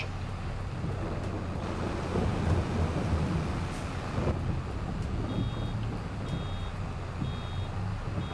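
Rain and thunder on a farming video game map, a steady dense wash of rainfall with low rumbling throughout, a louder swell near the middle, and faint high beeps late in the clip.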